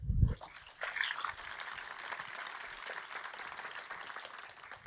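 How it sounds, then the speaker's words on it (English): Audience applause at a venture award ceremony, a soft, distant patter of clapping after a brief low thump at the start, continuing evenly and faintly throughout. "On peut l'applaudir"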